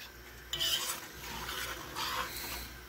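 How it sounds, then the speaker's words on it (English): Boxed Cajun jambalaya being stirred in a pot, quiet scraping and rasping strokes of a spoon against metal with a light bubbling undertone, no talking. "Stir that up all nice and good"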